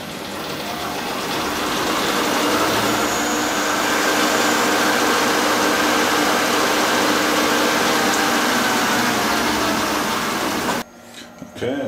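A lathe bores a step into a miniature M1911 barrel bushing, giving a continuous, loud machine hum and cutting hiss that stops abruptly near the end, leaving quiet shop noises.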